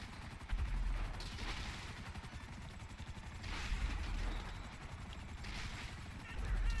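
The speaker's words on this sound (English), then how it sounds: "Firing missiles like a bitch." Rapid missile launches and explosive bursts in GTA V Online, a steady stream of rattling fire with periodic louder whooshes, faint and muffled in the background.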